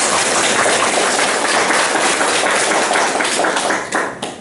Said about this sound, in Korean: 다 여러분들께 큰 박수 한번 부탁드립니다.